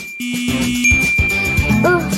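A phone sounds notification chimes: a few short, bright tones and quick rising tinkles, one after another, over a clattering, busy background.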